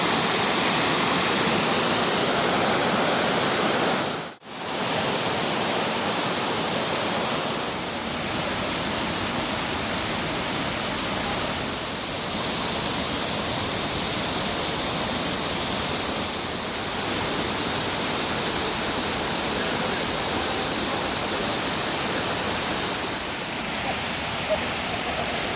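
Waterfall at Signal Falls roaring as a steady, loud broadband rush of falling water, continuous for the whole stretch with a brief dropout near the start and faint voices barely present.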